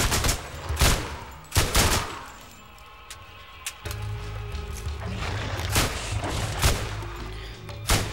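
A submachine gun fires in the shooter game Borderlands: loud, close bursts of rapid shots broken by short pauses, over steady background game noise.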